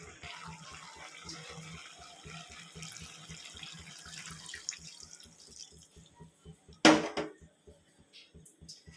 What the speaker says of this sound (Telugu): వాటర్ అయితే వేసేసుకున్నాము